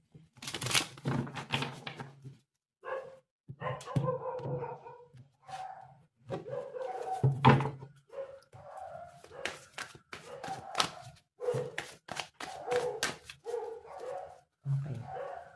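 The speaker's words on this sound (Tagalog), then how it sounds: "Pasensya na guys sa tahol ng mga aso." Several neighbourhood dogs bark in repeated bursts over the whole stretch, moderately near and steady, with yips and whimpers mixed in and a voice faintly underneath at times.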